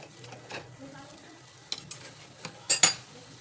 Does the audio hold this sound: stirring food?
yes